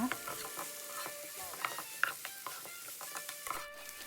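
Thai stir-fried pumpkin with cooked egg, turned gently in a pan before prawns go in: a steady faint sizzle under repeated scraping and clinking of a spatula against the pan, with brief sharp metallic ticks.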